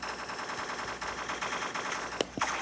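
Rapid gunfire from the crack shot rifle in the online egg-themed shooter Shell Shockers, a dense, steady burst of game shots with a couple of sharper cracks near the end, no talking.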